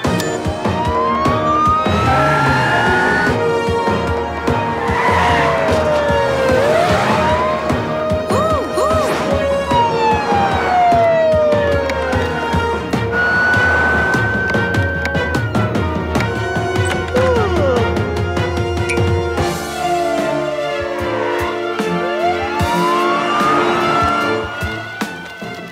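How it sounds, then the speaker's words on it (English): Rising and falling cartoon siren wails sweep repeatedly over loud, busy music, continuing steadily throughout. "Hit the sirens!"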